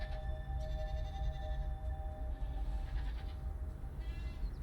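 Goats in a TV show bleat several times in faint, wavering cries over a steady low background hum, with no talk.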